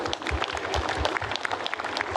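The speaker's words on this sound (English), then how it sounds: "Let's give them a big round of applause." Audience applause at a 50th anniversary celebration, a dense crowd clapping steadily and fairly loudly throughout, with no one speaking over it.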